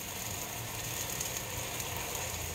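Thin, fatty smash burger patties sizzling on a hot griddle, a steady close hiss with faint crackle running unbroken throughout, no voices.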